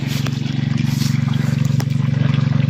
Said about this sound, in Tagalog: pinababa ko na yung tubig na nasa taas mga idol para yung pangalawang luwang ay makatubig din